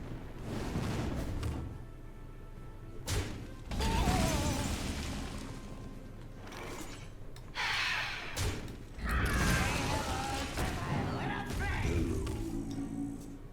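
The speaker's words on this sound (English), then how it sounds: "It's because they're dropping plates" Karazhan stewards in the Hearthstone card game drop plates, giving faint scattered crashes, clatters and thuds that rise and fall in bursts over quiet game sounds.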